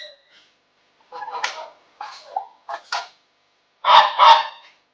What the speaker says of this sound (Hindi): ये टर्की है। This is Turkey.